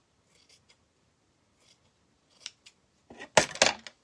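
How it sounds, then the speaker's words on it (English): Scissors snip velvet-covered foam for a decorative Easter egg, a few faint scattered clips early, then a cluster of louder, crisper close cuts near the end, with no speech. "I'm going to need to cut a little bit more here."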